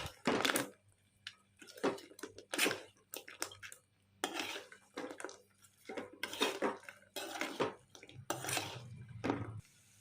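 Crispy fried potatoes tossed lightly in honey chilli sauce in a pan, with a spatula scraping and clanking against the metal in irregular bursts separated by short pauses, close and fairly loud.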